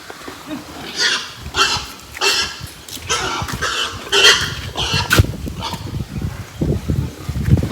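Farm pigs grunt and snort in a loud, irregular series of short bursts close by, with some cough-like rasps mixed in.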